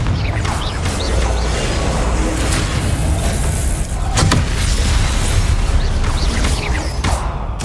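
A Confringo blasting spell in Hogwarts Legacy erupts as loud booming explosions and crackling impacts over a rumbling, continuous game soundscape, with sharper bursts near the middle and end.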